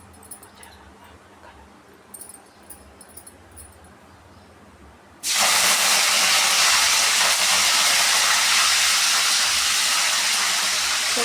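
Cumin seeds and curry leaves hit hot oil for masala brinjal and burst into a loud, steady hiss that jumps in abruptly after a quiet stretch of faint clinks, then holds strong to the end.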